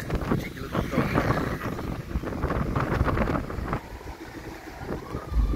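Wind gusts loudly against the microphone at a stormy seaside on a windy day at Cagnipa, Northern Samar, a continuous buffeting roar that rises and falls throughout, with voices faintly mixed in.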